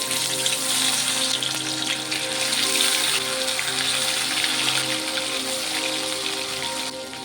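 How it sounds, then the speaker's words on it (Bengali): Fish fries in hot mustard oil, giving a loud, dense and continuous crackling sizzle heard close up, with no voices over it. "তেলটি সুন্দর গরম হয়ে গেছে, মাছটিকে ভেজে নেব"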